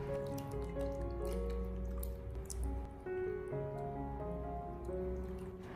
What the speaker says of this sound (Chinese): 我们将鸡腿反复的清洗几遍，把鸡腿完全的清洗干净。